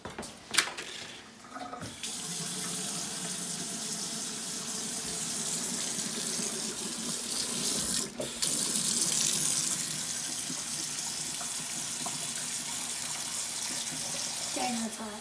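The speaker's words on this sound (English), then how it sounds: "So I'm gonna send the hot water." Hot water gushes steadily from a tap or hose onto snow, a continuous broadband rush that holds for most of the clip after a few brief handling knocks at the start.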